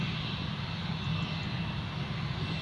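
A Jet2 airliner at Newcastle Airport, cleared to taxi and preparing for departure: a steady, loud engine roar and whine, continuous and unbroken throughout with no voices.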